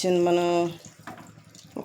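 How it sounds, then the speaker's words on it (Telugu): Water pours briefly into a pressure cooker of stuffed brinjal curry with a resonant gurgle, then fades into quieter kitchen sounds and a soft clink at the end. "ఇప్పుడు వాటర్ పోసేస్తున్నాను నేను"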